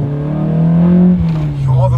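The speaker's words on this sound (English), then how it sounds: "this car is one of the nicest sounding Accords" An all-motor Honda Accord engine accelerates with a loud, sustained note that climbs steadily in pitch for about a second, then eases off briefly before pulling again.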